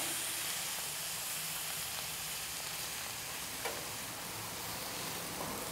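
Skirt steak searing on the higher-heat side of a hot griddle, beside onions: a dense, continuous sizzle and hiss, close and even, with no talking.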